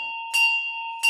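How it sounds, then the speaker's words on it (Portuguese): A bright bell rings as a sponsor jingle in a podcast, two clear struck chimes with a lingering pure tone between them, loud and close with no voices. "Mais uma vez o badalo do Reclame soa"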